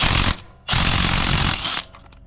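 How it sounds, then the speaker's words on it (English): An impact wrench (rattle gun) rattles hard on a motorcycle sprocket nut in two loud, close bursts, with a short pause between them and a brief fading tail. "I'm just going to use a rattle gun."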